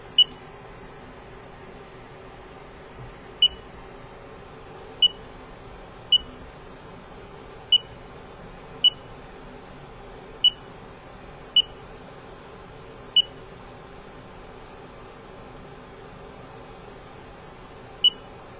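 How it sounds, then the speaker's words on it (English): A CNC machine's probe cycle gives a series of short, sharp electronic beeps at irregular intervals over a quiet, low machine hum, with one final beep after a longer pause. "that final beep indicates that the data is saved into G54 for X and Y"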